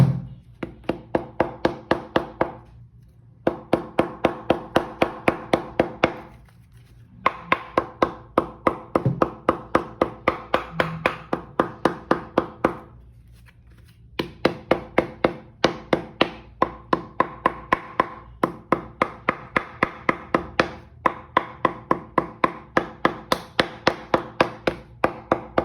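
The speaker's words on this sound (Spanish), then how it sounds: "con el martillo vamos a sentar ese doblez para que la goma pegue mejor" Rapid, steady hammer taps on a folded leather edge over a shoe last, in bursts of several seconds separated by short pauses, light and close, with a dull knocking tone.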